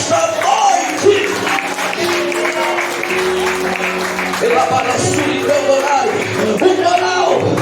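A church congregation applauding during an evening service, a dense sustained wave of clapping from a crowd filling the room, with voices audible through it.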